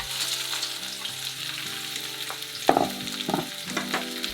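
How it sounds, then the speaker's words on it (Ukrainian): Loud continuous sizzling of onion frying in hot oil in a wok, with occasional scraping stirs in the pan over quiet background music. "Спочатку смажимо цибулю."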